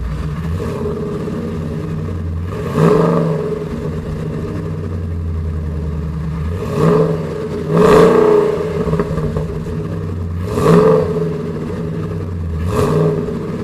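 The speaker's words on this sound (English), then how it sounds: "I'll give you a couple of revs." Saleen S331 Supertruck engine idling with a steady low drone, then blipped in four or five sharp revs spaced a few seconds apart, each swelling loud and close before dropping back to idle.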